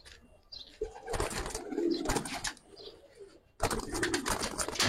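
Giribaz high flyer pigeons coo in repeated bursts at close range, with brief rustling and movement noise between the calls.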